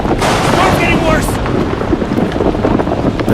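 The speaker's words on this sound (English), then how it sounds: "It's one hell of a storm." Thunderstorm in the horror video game Outlast 2, with roaring wind and rain, a low rumbling crash of thunder early on, then loud continuous gusty noise with some speech underneath.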